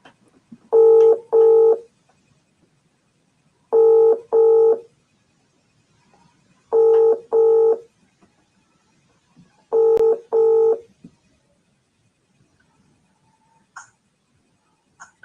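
Telephone line tones sound while a call is placed back: four evenly spaced pairs of short, loud electronic beeps, separated by silence.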